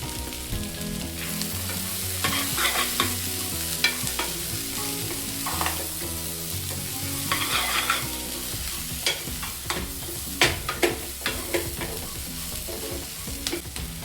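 Spices with turmeric powder and sprouted legumes fry and are stirred in a pan for sprouts sambar, a steady close sizzle punctuated by repeated scraping and stirring clicks, with music-like tonal background throughout and no talk.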